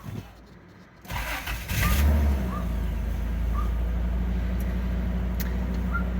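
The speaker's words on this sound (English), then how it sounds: "It's a cold start, it's idling a little bit high" A white 1997 Lexus LX450 cold-starts on a chilly morning, a brief cranking burst catching into a steady, slightly high idle that holds close and even with a faint airy whoosh.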